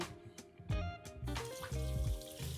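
Fingers rinsed under a running kitchen tap, with a few soft splashes and then a steady stream of water hitting a sink, close and moderately loud.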